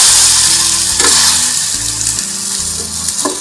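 A crispy breakfast snack flipped over in a pan sets off a loud, continuous sizzle of frying close by, with a few soft clatters as it is turned.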